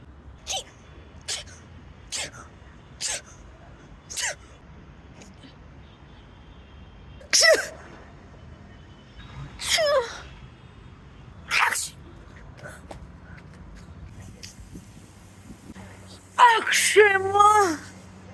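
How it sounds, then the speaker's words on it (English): A person performs a series of sneezes of different kinds: several short, quick bursts evenly spaced at first, then longer, stronger sneezes, ending with a drawn-out vocal one, all close and over a quiet background. "different types of sneezes"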